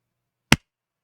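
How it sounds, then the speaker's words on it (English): A single sharp hand clap, one crisp isolated burst in otherwise silent surroundings, close and brief. "And now I will clap."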